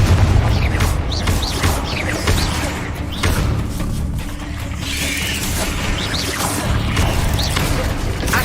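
Bombarda and Confringo spell blasts in Hogwarts Legacy, a run of loud thuds, booms and crashes in rapid succession amid busy combat noise, with brief voices.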